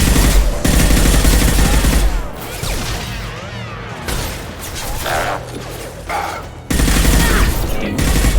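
Sustained gunfire in the sci-fi shooter Mass Effect 2, loud rapid automatic bursts with booming impacts that fill most of the clip and ease briefly in the middle before resuming strongly.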